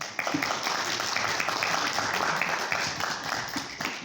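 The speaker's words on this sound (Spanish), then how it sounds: "Les pido un aplauso por favor para él." At a press conference for the documentary Te nombré en silencio, the room breaks into brisk applause, dense overlapping claps that hold steady for a few seconds and then thin out near the end.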